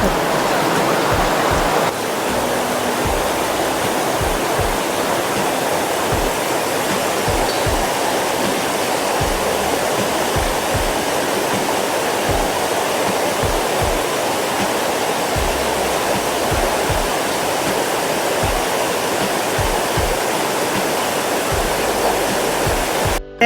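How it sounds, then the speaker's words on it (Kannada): Loud, steady rush of water flowing forcefully, a continuous roaring churn close by with no voices. "ನೋಡಿ ಹೆಂಗೆ ಹರಿತಿದೆ ನೀರು, ಫೋರ್ಸ್ ಸಿಕ್ಕಾಬಿಟ್ಟಿದೆ."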